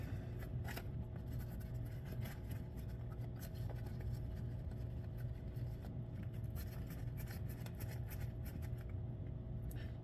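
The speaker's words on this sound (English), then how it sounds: "And then put the foam in through the tire." Soft, steady rubbing and scraping as a foam insert is worked into an Aka 1/8 scale RC racing tire, close up and continuous with faint irregular scuffs throughout.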